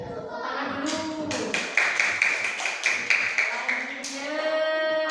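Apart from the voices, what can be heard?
children clapping hands in classroom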